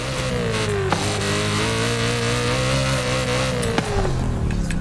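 A swapped V8 engine in a BMW M4 G82 revs in Forza Horizon 5, a loud, continuous game engine note that climbs and holds with sharp shifts in pitch, steady throughout with no talk.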